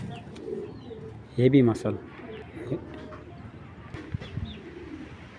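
Racing pigeons give a short burst of nearby cooing, with a voice talking over and around it.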